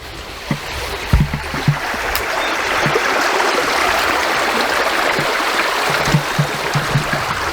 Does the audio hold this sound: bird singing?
no